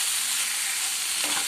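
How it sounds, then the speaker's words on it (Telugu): Boiled taro roots frying in a pan as they are stirred, a steady bright sizzle with a brief scrape of the spoon near the end, close and continuous with no talking. "బాగా కలుపుకోవాలి"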